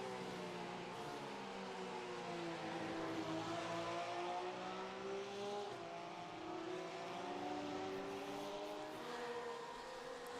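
A Porsche-style GT3 Cup race car in a racing video game screams around Spa-Francorchamps, its engine note rising and falling steadily through gears, heard as a faint onboard drone without any talking.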